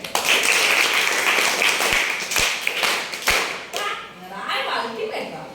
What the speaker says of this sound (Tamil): கிளாப் பண்ணிடுங்க